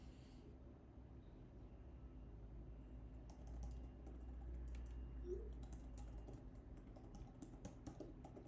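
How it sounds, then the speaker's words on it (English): Quick typing on a computer keyboard, a run of light irregular key clicks close by in the second half over a low steady background hum. "Gotta type something."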